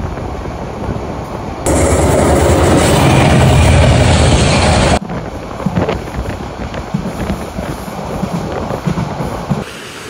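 The Parjotak Express, a daytime passenger train from Dhaka to Cox's Bazar, rumbles along steadily, with a loud, dense burst of rushing roar for a few seconds before the noise drops back to a rattling, windy hum.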